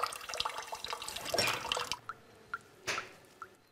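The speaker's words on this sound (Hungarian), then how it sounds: "a csap még mindig csöpög" A bathroom faucet keeps dripping: a brief burst of running, splashing water is followed by several separate, close drips falling at uneven intervals in an otherwise quiet room.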